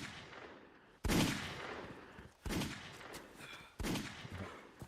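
A gun fires in a video game in three separate loud bursts, each a sharp crack followed by a rattling decay, spaced about a second and a half apart.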